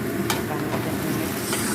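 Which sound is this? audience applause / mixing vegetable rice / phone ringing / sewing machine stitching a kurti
mixing vegetable rice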